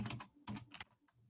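Typing on a computer keyboard while entering a geometry distance measurement, heard as a few quick clustered bursts of close key clicks with short pauses between them, alone without talk.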